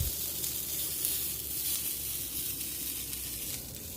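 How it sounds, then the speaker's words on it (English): Steak sizzling in butter in a hot pan, with broccoli warming alongside for a simple steak sandwich; a steady, close, even hiss and crackle of frying runs throughout with no talking. "And now I'm going to heat up the steak. I added a little bit of butter for extra flavor."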